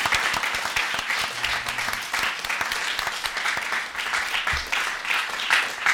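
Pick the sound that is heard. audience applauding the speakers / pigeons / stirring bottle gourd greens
audience applauding the speakers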